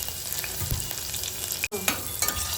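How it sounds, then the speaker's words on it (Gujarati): Garlic fries in hot oil in a pan, a close, even crackling sizzle that cuts out for an instant midway and then resumes, with no one speaking. "તો તેલ આવી ગયું ને, તો હવે આપણે નાખી દઈશું અંદર લસણ. લસણ થોડું લાલ થાય ને તે સુધી એને સંતળાવા દેવાનું."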